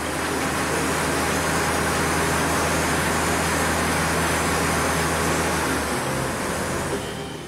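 A tractor engine held at full throttle on a rolling road test rig gives a loud, steady droning roar with a low hum beneath, holding constant before easing slightly near the end.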